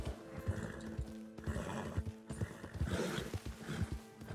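Hooves clop in an uneven rhythm as a horse in Red Dead Redemption 2 snorts and whinnies, the animal close by and restless, with short gaps between bursts of movement.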